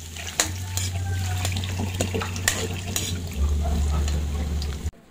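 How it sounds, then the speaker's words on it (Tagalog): Ginger and garlic being stirred in hot oil in a pan, giving a continuous sizzle with scraping spatula strokes and a steady low hum, ending in a sudden clunk. "Halu-haluin lang ulit natin."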